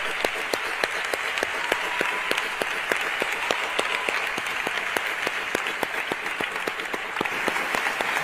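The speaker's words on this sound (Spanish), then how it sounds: "Ahí está, míralo, un fuerte aplauso." Steady audience applause for a children's chirigota group at a Córdoba carnival proclamation, dense even clapping with sharp individual claps standing out, sustained across the whole stretch without talk.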